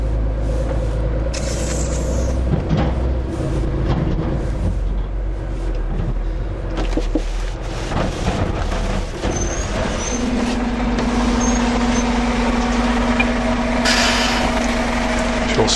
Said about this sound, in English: We'll switch the engine off.